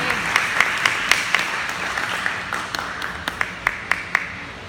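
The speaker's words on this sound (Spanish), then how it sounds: "Dale nuevamente un fuerte aplauso al Señor en este día." Church congregation applauding during a Spanish-language service, a soft wash of many hands with a few sharper, louder claps standing out near the front, moderately quiet and continuous.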